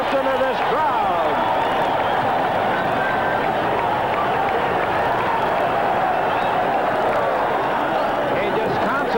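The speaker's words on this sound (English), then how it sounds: "Listen to this crowd." A boxing arena crowd roars after a knockdown in the Azumah Nelson vs Mario Martinez title fight: a dense, loud, unbroken wall of cheering and shouting that holds steady throughout.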